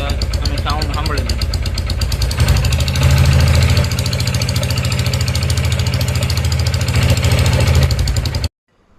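A vehicle engine, brought in for engine repair, runs close and loud with a steady rough idle and a knocking rhythm, rising slightly partway through before cutting off abruptly.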